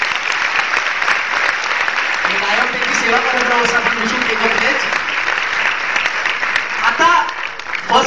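Audience applause at a live college performance at COEP, offered for parents, rolls on as a broad, continuous clatter beneath someone speaking into a microphone.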